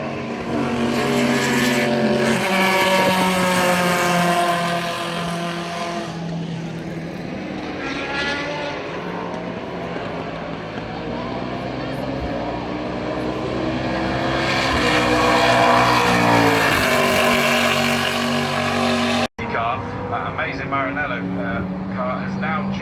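Race cars lap the Brands Hatch circuit during an Italian car festival, their loud engine notes rising and falling in pitch as they pass, with a short break near the end.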